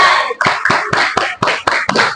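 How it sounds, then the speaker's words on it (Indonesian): Seated students in an Indonesian classroom performing a concentration clap, about eight sharp, crisp group claps in a fast, patterned rhythm, loud and close, with no talking over them. "Sambil duduk, tepuk konsentrasi."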